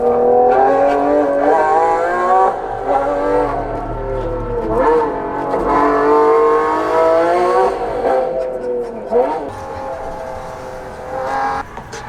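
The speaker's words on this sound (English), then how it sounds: "Let's get back to the Ferrari sound. Sounds like a Ferrari." A car engine revs loudly with a high-pitched, Ferrari-like wail, rising and falling in several throttle sweeps, close and sustained.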